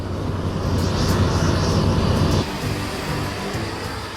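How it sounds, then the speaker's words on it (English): Engines of an eight-year-old Boeing 777-300 airliner roar at an airport, a loud continuous broadband rush that eases slightly partway through, with no talking. "777-300 taking me to South Africa"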